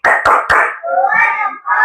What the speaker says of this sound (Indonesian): Tepuk tangan dulu untuk Farid.